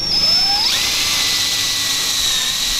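A power drill drives screws close by with a loud, continuous high whine whose pitch sweeps up as the motor spins up, then holds steady and dips as the screw seats. There is no talking.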